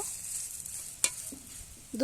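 Cauliflower pieces sizzle steadily in hot oil in a wok, a bright continuous frying hiss broken by a sharp utensil clack midway and another near the end.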